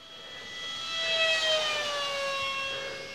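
An RC model F-16 jet flies past at full throttle, its high turbine whine rising as it nears and falling in pitch as it moves away, loud and steady with no talk over it.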